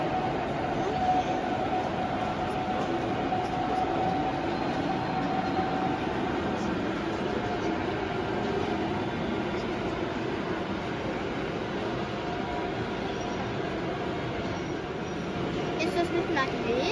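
Model railway locomotive running on a layout at a model and hobby fair in Leipzig, a steady continuous rumble and hum with faint rail squeal, under busy hall noise and nearby voices.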